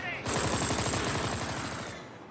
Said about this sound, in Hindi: राफेल में GI-80 30/719B गन है।